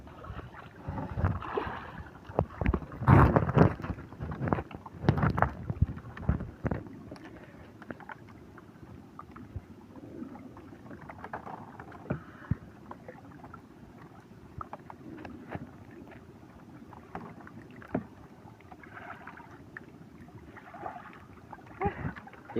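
Small fishing boat knocking and creaking on water with splashes, louder early then quieter, wind noise and faint voices in the background.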